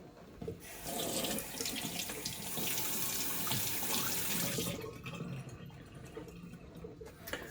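A bathroom tap runs into a sink for rinsing off after a bay rum shave, a steady hissing gush for several seconds that then drops to a softer trickle and drips.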